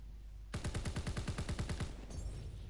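A fast automatic burst of about fifteen evenly spaced gunshots rings out in a video game, close and punchy, lasting around a second and a half before cutting off.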